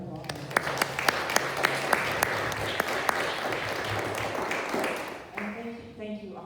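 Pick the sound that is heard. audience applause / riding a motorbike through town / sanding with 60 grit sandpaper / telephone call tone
audience applause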